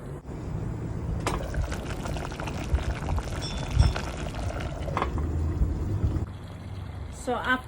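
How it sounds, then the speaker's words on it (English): Water is poured into a pot of pork sparerib soup with lemongrass paste cooking over high heat on an outdoor stove, a steady gushing splash running for several seconds up close. "you add about 4 cups of water into the pot"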